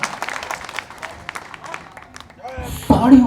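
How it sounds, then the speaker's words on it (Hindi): A crowd at a public meeting claps sparsely, with scattered separate claps at first, then a louder burst of applause swells near the end. "तालियां"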